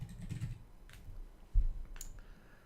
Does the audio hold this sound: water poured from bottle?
no